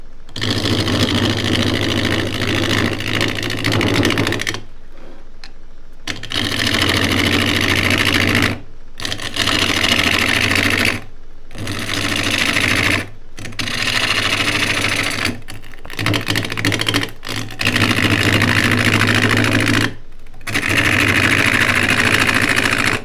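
A lightly weighted wood lathe spins a thin pot blank, its bench rattling in a loud, steady buzzing drone that cuts out briefly several times before starting again.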